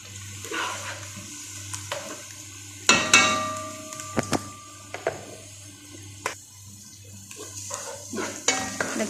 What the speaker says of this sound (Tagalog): Lagay ko na yung bawang at saka yung luya.